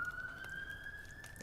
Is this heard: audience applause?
no